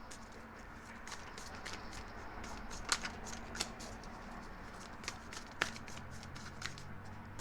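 Tarot cards shuffled and drawn close up, with soft riffling patter broken by a few sharper snaps and flicks as cards are pulled from the deck.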